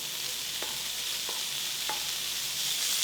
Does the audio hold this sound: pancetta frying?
yes